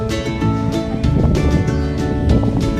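Steady wind rushing and buffeting outdoors on the Heradsbergen mountain, loud and continuous, with low rumbling gusts throughout.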